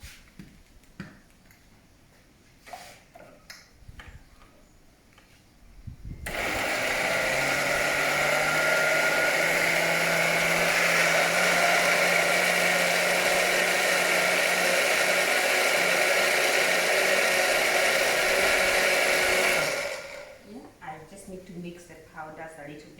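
A blender whirs continuously for about fourteen seconds while mixing a smoothie, a loud, steady motor roar that starts abruptly and cuts off sharply, with faint handling noises before and after.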